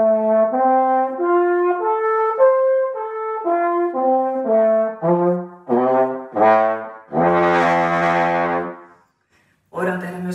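A French horn plays a short series of sustained notes stepping up and down, ending with a louder, richer held tone, then a brief final note.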